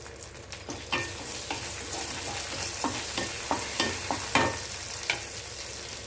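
Mustard seeds spluttering in hot oil while cooking curd rice sides, a crackle of sharp pops at irregular intervals over a steady sizzle.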